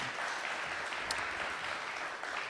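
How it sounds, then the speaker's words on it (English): Steady, fairly faint applause from an audience at a community theatre gathering, continuous and even throughout. "Everyone applaud."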